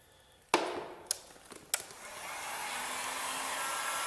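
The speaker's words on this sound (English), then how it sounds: "Get my heat gun again." A heat gun blows hot air onto vinyl headlight tint with a steady, soft rushing whoosh. A few sharp knocks and taps sound over it early on.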